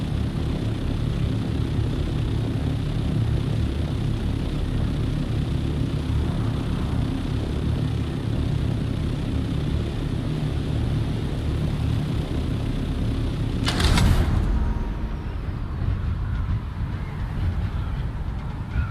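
Helicopter-like aircraft flying in the video game Dune: Awakening, a steady loud engine drone holding throughout, with a sharp burst near the end as if something crashes.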